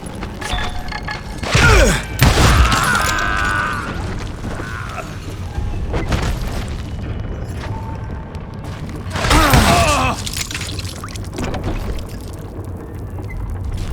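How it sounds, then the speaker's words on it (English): In the Wild West shooter Call of Juarez: Gunslinger, two heavy booming explosions come roughly seven seconds apart, each a loud thudding burst with crackling debris, over a low, steady game ambience. "All it takes is one tiny spark, and boom."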